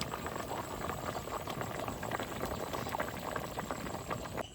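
Hilsa fish curry in a red gravy bubbling under a lid on the stove, a steady dense boil with soft popping and patter running throughout, moderately close and alone without voices.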